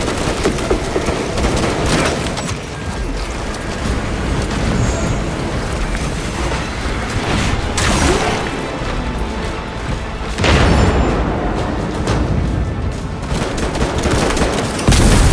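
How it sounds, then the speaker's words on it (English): A dense battle din in the video game Space Marine 2: continuous heavy gunfire and loud booming explosions, including a frag grenade blast, rumbling without pause through the whole stretch. "Frag grenade in."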